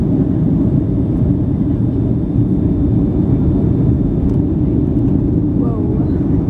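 Steady, loud broadband roar inside an airplane during flight, a constant cabin drone with no breaks and faint background sounds.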